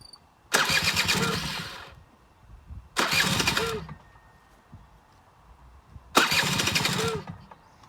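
A Kawasaki KXF80 dirt bike is cranked three times, each a loud, roughly one-second burst of starter and engine noise followed by quiet gaps, with no talk.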